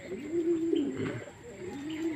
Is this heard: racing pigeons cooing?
yes